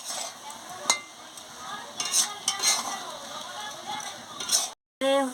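A spoon stirs spinach and taro curry in a pan, with repeated metallic scrapes and clinks over a low simmering sizzle, then a brief silence and a short burst of other sound.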